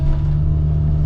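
A backhoe engine running while digging a sewer and water trench, a loud, steady low diesel rumble with a constant hum, close by and unbroken for about a second.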